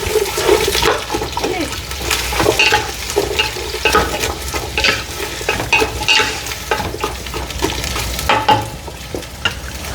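Onions, garlic and green chili sauté in hot oil in a pan, sizzling loudly and continuously up close while a utensil stirs and scrapes through them.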